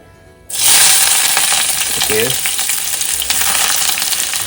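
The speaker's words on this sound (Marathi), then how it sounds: "कढीपत्ता कांद्याची फोडणी द्यायची आहे आणि कांदा थोडासा ब्राउनिश होईपर्यंत आपल्याला त्याला तेलात परतवून घ्यायचं आहे" Loud, steady sizzling erupts abruptly as onion and curry leaves hit hot oil and keep crackling close by, with a brief voice murmur partway through.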